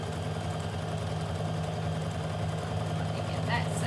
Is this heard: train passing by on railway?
no